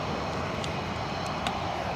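Jet airplane engine at Edinburgh Airport, a steady broad roar, fairly distant and even in loudness, with no speech.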